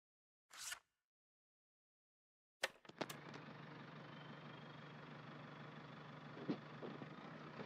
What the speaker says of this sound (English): Listen to this engine, how it purrs.